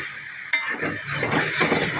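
Vegetables stir-fried with turmeric and chili in a pan: a sharp utensil clatter on the pan, then a continuous sizzling hiss with soft scraping and stirring, close and fairly loud, no voices.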